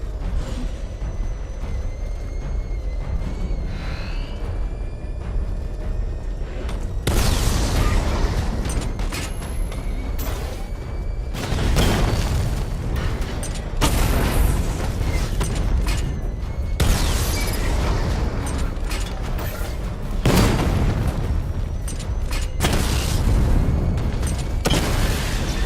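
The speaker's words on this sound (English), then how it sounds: "Charge up missile barrage to level 2 and destroy 4 active targets to complete diagnostic test." Repeated heavy missile-barrage explosions in Batman: Arkham Knight, loud booming bursts in clustered waves over a steady mechanical hum, with no talking.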